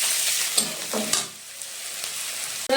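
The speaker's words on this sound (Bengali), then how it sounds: "এবার এখানে পেঁয়াজ কুচি দিয়ে দিলাম।" Chopped onions hit hot oil already seasoned with bay leaf, dried chilli, cardamom, cinnamon and cloves while cooking mutton, giving a loud steady sizzle with scraping stir sounds and a sharp fresh crackle near the end.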